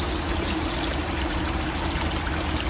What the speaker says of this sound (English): I hear water. The little creek goes right through here.